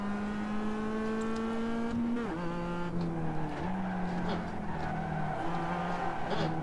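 A Mazda MX5 engine revs hard through a corner at Okayama in iRacing, a loud, steady high-revving drone that dips and climbs with gear changes and tire scrub.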